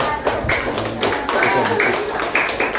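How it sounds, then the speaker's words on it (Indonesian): Short burst of applause for a student group in an Islamic religious education class, dense clapping under a speaking voice that continues throughout. "tepuk tangan buat kelompok 4"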